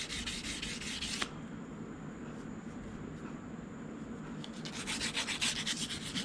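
A sharp burr is filed off the steel of a milling machine vice with a rasping, rhythmic rubbing, in strokes at the start and end and quieter scraping between them, at close range with no talking.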